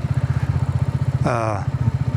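A 20 HP motorcycle engine running with a rapid, regular low thumping pulse, close and loud, while a voice briefly speaks over it partway through.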